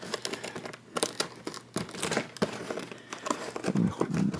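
Plastic packaging on a Godzilla toy box is cut and pulled apart, close and fairly quiet, with irregular crinkling, snipping and tearing bursts that come in quick uneven clusters.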